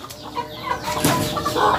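Free-range village chickens cluck in a breeding coop, with several close, overlapping clucks and short calls over a busy farmyard background.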